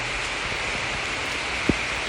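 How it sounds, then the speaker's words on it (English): Heavy tropical rain pours steadily during a walk in Singapore, a dense, even hiss of drops on surfaces all around, with one brief sharp knock near the end. "It is pouring now. I might just have to walk this in the rain."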